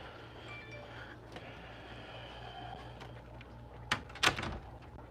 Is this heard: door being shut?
yes